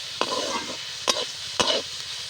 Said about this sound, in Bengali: বেশ সুন্দর করে ভেজে নেব।